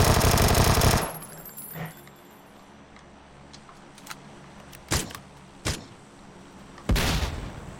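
A video game firefight: a loud burst of gunfire and a grenade blast open the scene, then a quiet stretch broken by several sharp, isolated shots and one more heavy burst near the end.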